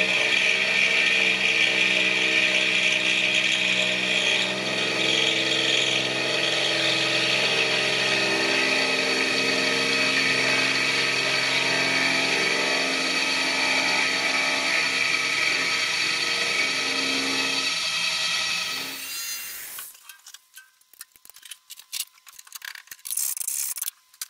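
A machine steadily cuts the end of a threaded rod square for a plate and ring roller build. The loud, even mechanical whine and hum runs for most of the span, then stops, leaving a few faint clicks and rattles.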